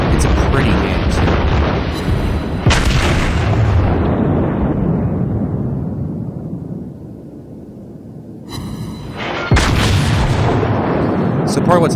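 Heavy battleship guns firing in World of Warships aboard the South Carolina: a loud close boom that rolls and fades over several seconds, then another sharp blast and roar, with a voice talking at times.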